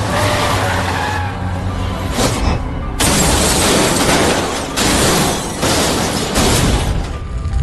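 An armored truck skids and overturns, a loud sustained roar of grinding and scraping with heavy crashing bursts and brief lulls, close and dense throughout.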